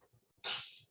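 One sharp, close human sneeze bursts out after a few faint breaths and fades quickly, with no talking around it.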